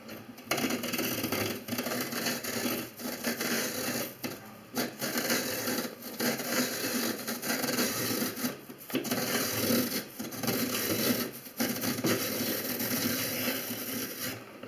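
Hand-cranked apple peeler working its blade through an apple, giving a steady close scraping and rasping with slight rhythmic breaks, continuous for the whole stretch with no talking.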